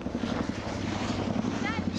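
A CH-46 or Army CH-47 helicopter flies over a ski slope in Vail, its steady rotor and engine drone filling the air, moderately loud and continuous.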